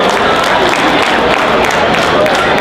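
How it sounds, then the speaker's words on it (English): An audience at the Toronto Caribbean Business Expo 2015 gives a dense, loud round of applause that continues steadily throughout, with voices mixed in. "let's give them a round of applause"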